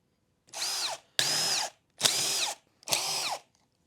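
A power drill backs bolts out of a plate on a 1972 Arctic Cat Panther 303 rotary snowmobile engine, four loud, close whirring bursts of roughly half a second each, separated by brief silences.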